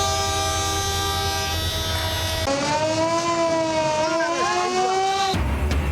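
A train pulls out on schedule from Dhaka amid the Eid holiday travel rush. Its loud horn sounds in long sustained blasts, with a short break midway, over steady rumble and no talk.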